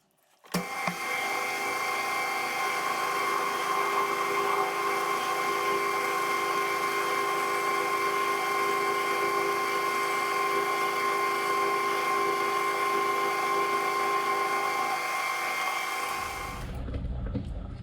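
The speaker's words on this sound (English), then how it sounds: "So I'm just going to drill it." A drill whines at a steady high pitch for around fifteen seconds, close and continuous, drilling a clearance hole for a hand winch build, then cuts off and winds down.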